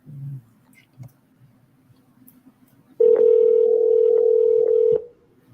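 A phone call is placed for a wholesaling pitch: a few faint clicks and murmurs, then a loud steady ringback tone holds for about two seconds before stopping.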